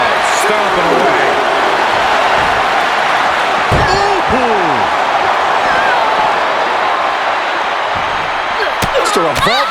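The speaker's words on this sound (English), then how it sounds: "Just a revolving door of forearms. Listen to the impact." Forearm strikes land in a wrestling video game, a few heavy thudding impacts over a constant roar of arena crowd noise, with a commentator talking throughout.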